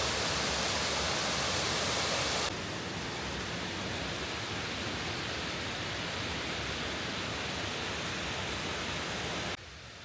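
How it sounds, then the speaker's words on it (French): Steady broadband roar of the cascade des Combes waterfall near Saint-Claude, running high with heavy flow, loud and close at first, then a slightly softer continuous rush for the rest. "Et là je suis arrivé à la cascade des Combes"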